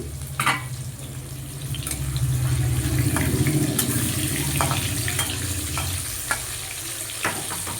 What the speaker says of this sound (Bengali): দেখো মাছটা ভাজা বসে দিয়েছি আমি